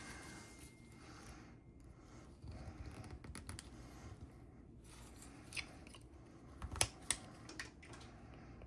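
Knife carving wood by hand, making faint close scraping and slicing cuts with a few sharper clicks as chips come away.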